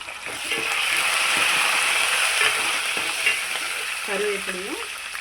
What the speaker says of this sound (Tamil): நல்லா போட்டு பொரியிட்டேங்க